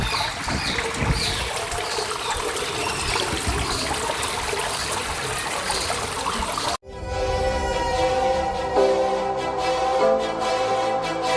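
Water trickles and splashes down onto a Mahadev shrine set inside a stone structure behind a temple in Bhanvad, a steady dense wash for about seven seconds before it cuts abruptly to music.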